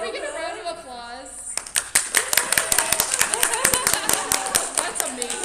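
Audience applause breaks out at a cosplay panel, a dense burst of many hands clapping that starts after a moment of talk and continues steadily, with voices still speaking over and under the clapping.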